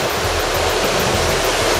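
Atlantic ocean surf at El Tigna beach in Morocco, a dense, steady wash of waves breaking close by with no voices.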